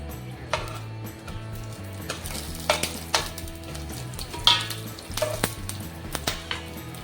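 Green chillies deep-frying in oil alongside wheat flour gulgule, a soft continuous sizzle with intermittent metal spoon clinks and stirring knocks against the pan.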